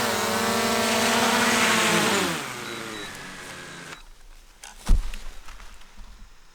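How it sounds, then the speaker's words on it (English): DJI Air 2S drone flying over the Burren pines in Ireland, a steady multi-tone propeller whine that sweeps downward as it moves off, fading out before a brief thump and faint rustling. "going to bring the drone back"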